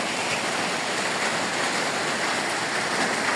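Heavy nonstop rain pours during a flood over flooded rice fields and a yard, a dense, steady hiss of water with no pauses.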